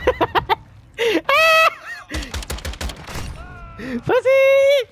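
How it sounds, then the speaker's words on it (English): Video game gunfire cracks out in quick bursts of sharp shots, loud and close, mixed with a player's loud shouting and yelling. "I was getting shot from behind, dude."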